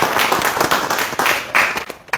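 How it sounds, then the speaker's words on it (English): On a talk show, a small audience gives a short burst of clapping. It is close and fairly loud, rises and falls in uneven waves, and then thins out at the end. "So Terry, we applaud you."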